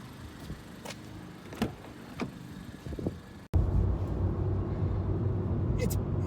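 A 2018 Honda Fit Sport car on the move: a quieter opening gives way to a sudden, steady, loud interior rumble of engine and road noise that continues to the end.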